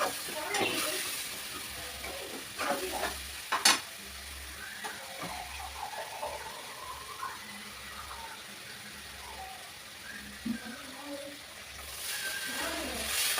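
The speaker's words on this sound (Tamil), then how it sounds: "எல்லாத்தையும் நல்லா மிக்ஸ் பண்ணிவிட்டு கொஞ்சமாக தண்ணி ஊற்றுறோம்" Egg curry simmers in a pan after a little water is added, with soft sizzling, scattered stirring taps and scrapes, and a louder clatter near the start, all fairly faint and steady.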